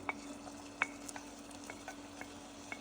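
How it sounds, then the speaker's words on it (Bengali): Minced meat fries in a cooked-down spice masala, a soft continuous sizzle broken by sharp scrapes of a spoon against the pan at irregular intervals, quiet and without talk. "মশলাটা কষানো হয়ে গেছে এখন আমি মাংসের কিমাটা দিয়ে দিচ্ছি"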